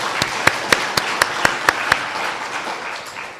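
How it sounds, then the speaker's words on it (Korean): A church congregation gives a round of applause during a Korean Sunday sermon, starting with evenly spaced, fairly rhythmic claps that soon blend into a softer, fading patter. "우리에게 지혜를 주신 하나님께 감사의 박수 올리십시다."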